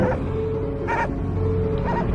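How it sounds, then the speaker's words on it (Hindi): A dog barks three times at night at spaced intervals over a steady background drone, fairly distant. "कुत्ते के भौंकने की आवाज आती है"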